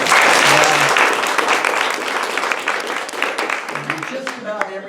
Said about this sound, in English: Everybody that's clapping